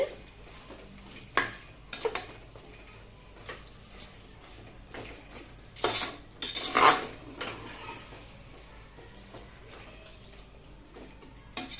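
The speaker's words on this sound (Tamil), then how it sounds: "தயிரையும் நல்லா மிக்ஸ் பண்ணியாச்சு" Chicken mixed with yogurt for biryani in a bowl, with intermittent clinks and scrapes of a utensil against the dish and soft wet stirring, fairly quiet and close with no talking.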